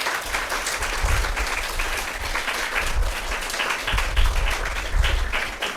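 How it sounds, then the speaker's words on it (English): An audience at an English literature lecture breaks into steady, sustained applause, dense clapping from many hands filling the room without pause. "give yourself a big hand"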